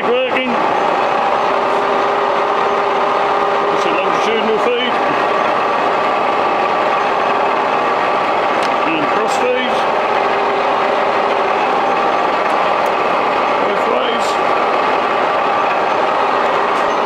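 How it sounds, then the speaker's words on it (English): A JFMT J1 530 x 3000 centre lathe runs at its lowest speed, giving a steady, loud mechanical drone with a constant hum and occasional faint clicks and knocks throughout. "Machine running on its lowest speed."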